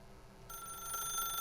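A telephone in The Stanley Parable begins to ring, a bright electronic trill that cuts in abruptly and holds steadily, clear and close over a quiet low hum.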